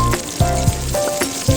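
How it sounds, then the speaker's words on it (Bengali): Chopped onions frying in hot oil alongside bay leaf and dried chillies, a close sizzle cut by several short stirring knocks, with no speech. "এরপর পেঁয়াজগুলিকে একদম লাল লাল করে ভেজে নিতে হবে।"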